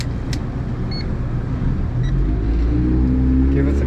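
Twin 150 outboard engines on a 26-foot Duckworth offshore boat start with the key, a low rumble swelling and settling into a steady, close drone.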